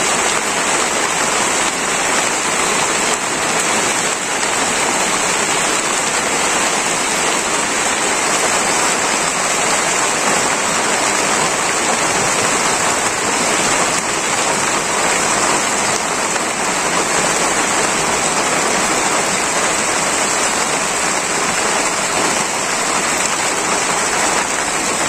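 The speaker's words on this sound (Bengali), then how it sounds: "একটা রাত দিয়ে হঠাৎ করে বৃষ্টি আইছে" Sudden heavy rain pours down in a Bangladeshi village in Manikganj district, a loud, dense, unbroken hiss of drops on surfaces lasting throughout with no other sounds standing out.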